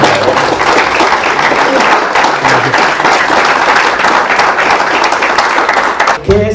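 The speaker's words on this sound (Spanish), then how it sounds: "Un aplauso, por favor." Loud, dense audience applause fills the room nonstop for about six seconds during a law-themed talk, then cuts off abruptly near the end.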